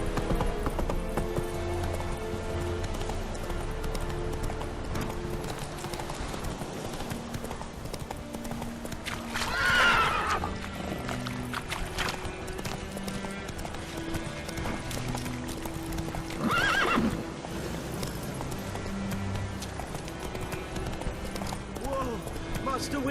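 In The Witcher 3 video game, a horse's hooves clip-clop steadily at a run, with two loud neighs over game music and characters talking.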